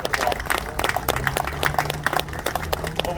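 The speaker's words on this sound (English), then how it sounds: "Give them a round of applause." A short burst of clapping for public market staff at an outdoor celebration, a crowd applauding together with distinct individual claps standing out close by for a few seconds.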